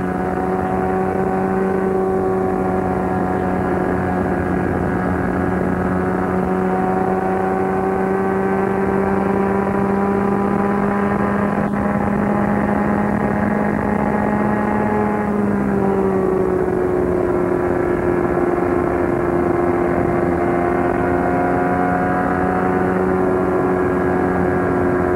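Onboard a Indy race car at the 1994 Indy 500, the engine screams continuously at high revs, pitch sliding down and back up through corners, loud and close with steady wind roar and no voices.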